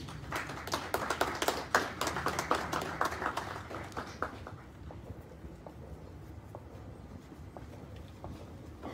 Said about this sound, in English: please give a round of applause for all the awardees